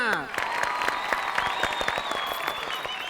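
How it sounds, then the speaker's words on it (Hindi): An audience at a lively gathering breaks into loud applause with scattered cheers and whoops, a dense wash of clapping running steadily under some voices and a held tone. "अरे जरा जोरदार तालियां"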